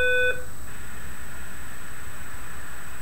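Brief electronic dial tones from the snom ONE Windows softphone client placing a call, a short burst of layered beeps in the first half-second followed by a faint steady hiss and a thin high whine.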